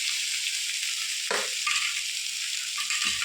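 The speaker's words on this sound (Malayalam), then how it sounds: "കൊത്തി എരിഞ്ഞ കൂമ്പ് എണ്ണ പുരട്ടി വെച്ചതാണ്, അത് ചേർക്കുക." Chopped banana flower, coated in oil, hitting hot oil with curry leaves in a pan: a steady broadband sizzle with a brief stir-fry clatter partway through, close and continuous, no voices.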